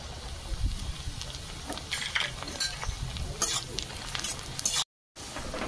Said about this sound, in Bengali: পেঁয়াজ হালকা প্রায় ভাজা হয়ে আসছে, ব্রাউন কালার চলে এসছে।